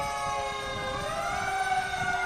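A fire engine siren wails at a street pride parade, a steady rising tone over a rumbling truck engine, loud and close.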